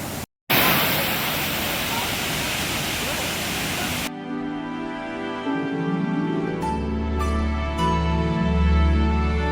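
A waterfall where people bathe, on a motorbike trip toward Kerala, gives a loud, steady roaring wash of falling water for about four seconds before the sound abruptly changes to music.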